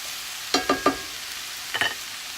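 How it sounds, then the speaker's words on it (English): Ground beef for chimichangas scraped and stirred in a hot pan, three quick close scrapes followed by a pause and two more over a faint steady sizzle. "I'm going to add the ground beef. I'm going to incorporate it completely, take it apart"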